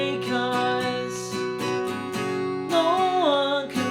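An acoustic guitar strums the chorus of a song with steady, close chords and a wavering sung melody over them.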